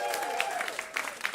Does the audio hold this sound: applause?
yes